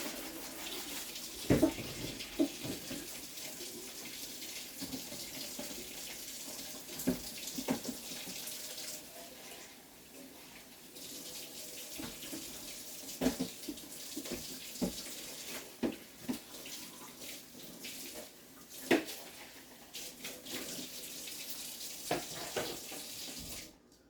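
Tap water runs steadily into a kitchen sink while dishes are washed up, with intermittent clinks and splashes over the continuous flow, close and moderately loud, no talking.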